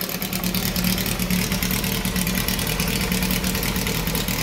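A freshly fitted carburetor feeds an engine running at its first firing, giving a loud, steady, even idle with a rapid low pulse that stays constant throughout.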